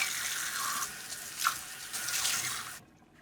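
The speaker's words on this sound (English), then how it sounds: "I'm going to wet my knife a little bit because it helps get cleaner cuts" Tap water runs steadily from a kitchen faucet to wet a knife for slicing a tall rainbow layer cake, a broad hiss with a small splash midway before cutting off abruptly near the end.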